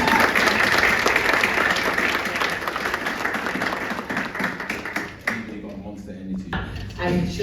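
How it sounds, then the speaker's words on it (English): A live audience claps in a sustained round of applause mixed with crowd noise, loud and dense for about five seconds before thinning into scattered claps and murmuring voices. "Give them a round of applause, guys."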